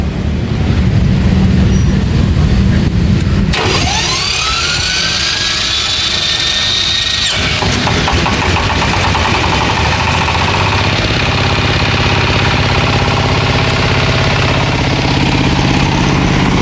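A 26 HP diesel on a Denyo D-250A welding generator set whirs under the starter, catches with an abrupt roar, then settles into a steady loud idle close by.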